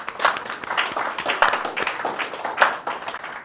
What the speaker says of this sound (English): big round of applause for George